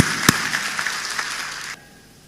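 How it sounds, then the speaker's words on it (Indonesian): A church congregation applauds during a sermon, a dense wash of clapping with one sharp close clap near the start, holding steady before cutting off abruptly into quiet room tone. "Ayo kita berikan tepuk tangan yang paling meriah untuk Tuhan."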